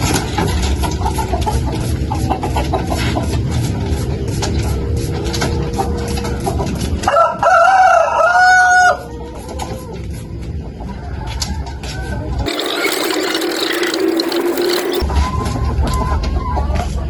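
Chickens cluck and a rooster crows in a small home backyard coop, heard amid steady loud background noise with a brief distinct call midway.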